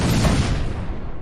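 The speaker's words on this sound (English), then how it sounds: "Playing with firecrackers is so much fun." A single firecracker goes off with a sharp, loud bang that fades into a short rumbling decay.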